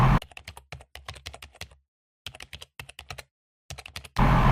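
Python code being typed on a computer keyboard in bursts of rapid, crisp key clicks with brief pauses between runs, close and clear with no voices.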